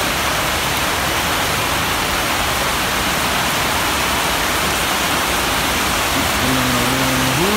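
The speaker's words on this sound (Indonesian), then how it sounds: "Hujan." Heavy rain pours as a loud, dense, unbroken hiss that fills the whole stretch, with a faint tonal hum creeping in near the end and no speech.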